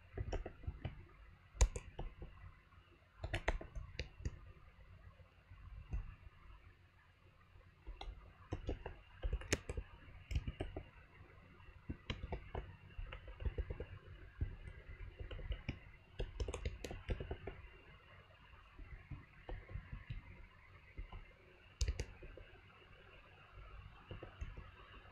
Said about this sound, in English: Alright, so I'm done typing the text